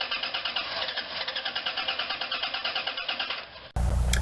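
A 1996-2002 Dodge Caravan engine running until it burns off fuel pressure, a steady close idle with an even rhythmic pulsing throughout, ending in a sudden louder burst.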